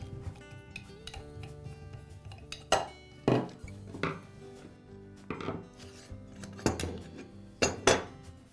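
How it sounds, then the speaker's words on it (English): Parts of a Makita angle grinder being taken apart by hand: the side handle and guard come off with a series of sharp metallic clinks and knocks at uneven intervals, close and fairly quiet. "I'll begin by removing the side handle and the guard."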